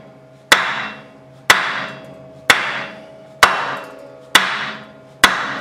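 A dead blow hammer strikes a wood block on the back of a CX500 motorcycle exhaust muffler, six sharp, evenly spaced knocks about a second apart, each ringing briefly with metallic resonance, close up and alone.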